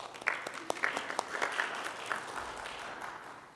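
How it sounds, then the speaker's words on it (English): Audience applause at an outdoor flag-honoring ceremony with Boy Scouts, a steady crowd of clapping hands with sharper claps scattered on top, moderately distant and fading slightly toward the end. "Please give them a round of applause."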